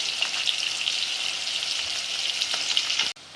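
Dried fish fries in a pan with a dense, even hiss and crackle that holds steady and close, then cuts off abruptly near the end.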